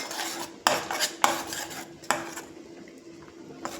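A metal spoon clinks and scrapes against a pan while ginger garlic paste is stirred into paya curry, with several sharp knocks over a soft, quiet rubbing of the thick mixture.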